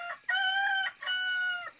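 Roosters crow in two long, loud calls that fill the stretch, close by, with chickens clucking around them on a farm. No one speaks.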